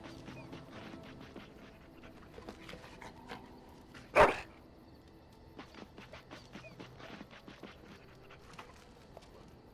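A pet dog in the Dragon Age: Origins video game pants and huffs softly through a low bed of game ambience, with one brief, louder vocal burst in the middle of the stretch.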